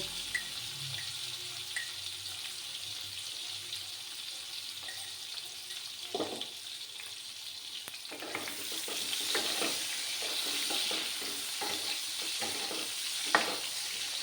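Eggplant fries in mustard oil in a pan, a faint, low sizzle broken by occasional stirring scrapes and clicks, swelling into a fuller, steadier frying crackle midway.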